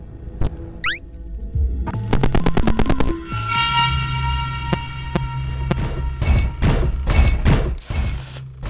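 Generator explosion in the horror fangame FNAF: The Glitched Attraction, a burst of sharp crackling bangs and rapid popping over a low hum, followed by broad loud blasts and rumbling, close and intense.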